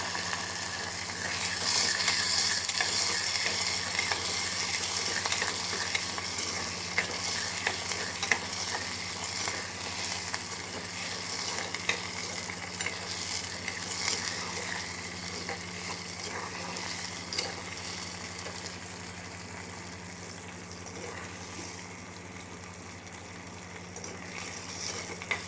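Chopped tomatoes sautéing in a pan for a tamarind kuzhambu, a soft continuous sizzle with occasional scraping stirs, close and steady, no voices.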